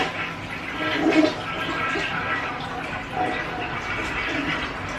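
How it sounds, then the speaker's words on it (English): A toilet tank refills with water after an overhaul, a steady rushing and gurgling flow running close by for the whole stretch as the float valve rises. "As water comes up, this float valve will float up"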